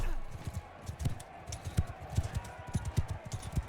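A horse gallops in the video game Mount & Blade II: Bannerlord, its hoofbeats thudding in a quick, steady rhythm, loud and close, with someone talking over them.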